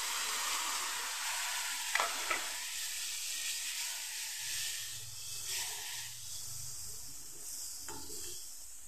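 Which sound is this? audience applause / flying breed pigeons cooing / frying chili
frying chili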